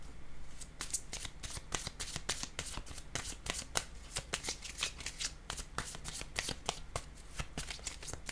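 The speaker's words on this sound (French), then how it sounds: "Je vais piger une carte rose." A deck of oracle cards being shuffled up close: a rapid, continuous run of crisp riffling flicks and slaps, fairly quiet and with no talking.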